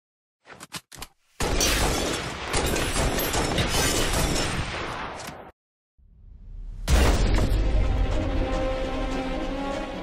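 A window is shot and shatters loudly: brief sharp cracks first, then a long burst of breaking, crashing glass that cuts off, followed after a short gap by a second loud wave of crashing debris.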